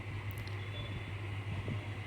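Low, steady rumble of a train pulling out on a trip toward Jampui Hill, heard from inside a carriage, fairly quiet and continuous with faint higher clatter and no speech.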